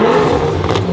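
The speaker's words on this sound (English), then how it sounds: "Love the sound of the exhaust." The modified exhaust of a BMW 335i (E90) with a built engine rumbles loudly in a short, close burst, a deep throaty drone held steady throughout.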